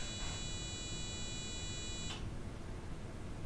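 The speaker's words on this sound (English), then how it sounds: "Once the safety sensors and the buzzers have confirmed that nobody is inside" A safety buzzer on a disinfection unit sounds a steady, piercing electronic tone for about two seconds before cutting off, leaving faint room noise.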